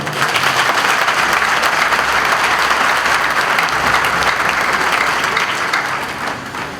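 Loud, dense applause from a large crowd at a Nigerian Navy commissioning ceremony greets newly commissioned sub-lieutenants, holding steady before easing slightly at the end.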